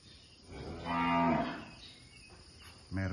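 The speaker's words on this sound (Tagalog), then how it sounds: "ito guys yung mga bako" A cow gives a long, low moo close by on a farm, followed by quiet and the start of another moo at the end.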